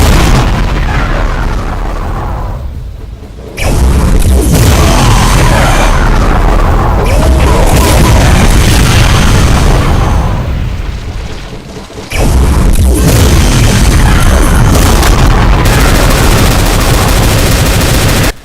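Masterminds in a Doom mod unleash a relentless barrage of explosions and rapid gunfire from a rapid shotgun and BFG 9000, loud and dense with two brief lulls.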